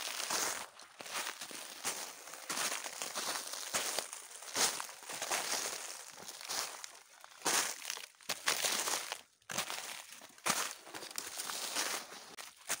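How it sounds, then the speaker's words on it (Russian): Snow crunching and squeaking underfoot as someone walks through taiga forest among spruce and willow, a steady series of close, crisp footsteps with brief pauses between them. "Снег под ногами очень классно шуршит,"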